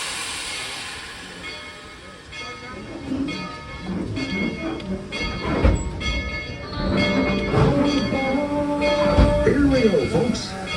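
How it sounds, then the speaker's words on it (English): Tweetsie Railroad excursion train rolling along at a steady pace, rumbling and clattering with hissing steam throughout, with a voice and other sounds mixed over the moving train. "All aboard the Tweetsie Railroad."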